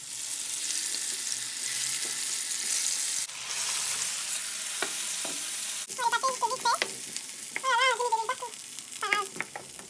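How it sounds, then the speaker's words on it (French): Courgettes and cassava fry in a little olive oil in a pan, a close steady sizzle with stirring and scraping, joined later by short bright squeaky tones. "Je vais faire passer les courgettes et mes maniocs à la poêle avec de l'huile d'olive."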